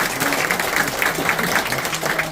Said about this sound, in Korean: 큰 박수를 부탁드리며 오늘 간담회를 마치겠습니다